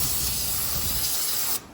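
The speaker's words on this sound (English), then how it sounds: "Just spray them off." A steady, close hiss of an aerosol cleaner sprayed onto rotor parts runs continuously for over a second and a half, then cuts off abruptly.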